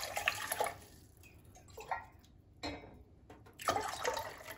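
Water poured into a cooking pan for an Ayurvedic kadha, heard as several short splashing pours with pauses between them, close and fairly quiet.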